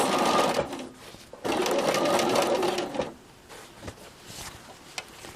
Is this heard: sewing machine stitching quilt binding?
yes